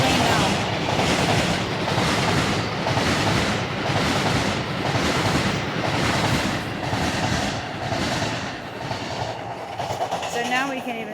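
A train rolls past nearby, a loud continuous rumble with rhythmic clickety-clack surges from the wheels and a faint squeal near the end.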